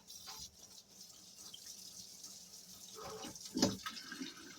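Water runs quietly from a kitchen tap while a pickle jar is rinsed, a faint steady stream with a few splashes and clinks near the end.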